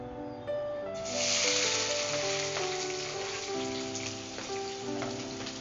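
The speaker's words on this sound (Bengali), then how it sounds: "হ্যাঁ, তেলটা মোটামুটি গরম হয়ে এসছে" Chopped onion hits hot oil for chicken kosha, bursting into a loud, steady sizzle that swells after the first second and stays dense, while a faint tonal hum lingers underneath.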